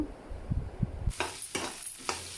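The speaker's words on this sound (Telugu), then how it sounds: "ఇలా వేసుకొని బెండకాయల్ని వేయించుకుందాం కాసేపు" Frozen okra hits a hot pan and starts to fry: a quiet lead-in, then sudden crackling sizzle bursts that come in uneven waves, close by.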